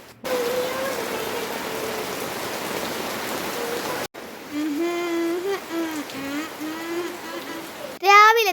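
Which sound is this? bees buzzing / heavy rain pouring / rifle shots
heavy rain pouring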